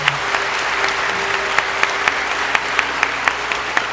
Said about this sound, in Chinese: 我再来掌声来谢谢他们